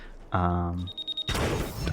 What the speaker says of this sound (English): there was 2 explosions